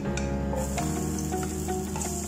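Garlic dropped into hot oil in a pan, after garlic, ginger and onion for chicken thigh and liver adobo, hissing with a steady, close, continuous sizzle throughout, with no talking.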